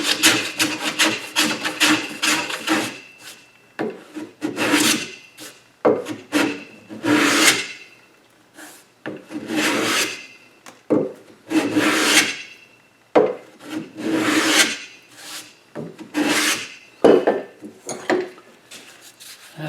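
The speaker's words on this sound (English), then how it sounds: "You just realize I'm planing backwards. There's no wood grain to chip out." Rhythmic scraping strokes of a hand plane shaving along a wooden block, planed against the grain, repeated in steady bursts with short pauses between passes, close and alone without talk.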